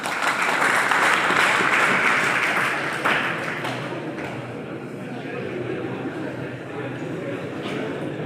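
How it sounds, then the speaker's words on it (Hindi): A class applauds during a lesson on types of mind: loud, dense clapping for about three seconds that gradually thins and fades into softer scattered claps and room murmur. "ताली बजाओ"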